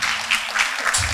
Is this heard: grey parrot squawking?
no